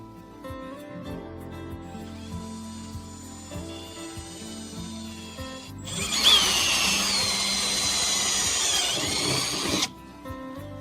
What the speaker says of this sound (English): we drill very carefully as the pillar is located just inside